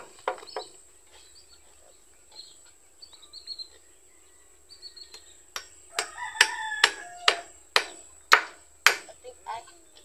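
A hammer strikes repeatedly while a pig pen is being built outdoors, the sharp knocks coming faintly at first and then louder and in a fairly regular rhythm over the last few seconds.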